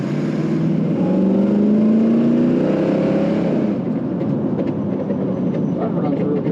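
A 1933 Ford Victoria classic car runs steadily on a test drive, its engine drone rising in pitch as it accelerates, then settling into a rougher, lower rumble with road noise, continuous and close throughout.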